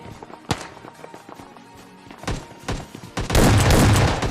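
Shotgun fire from an S12K in the PUBG Lite video game, snow map: two separate booming blasts, then a loud, dense burst of overlapping gunfire near the end, all close and punchy with no talk.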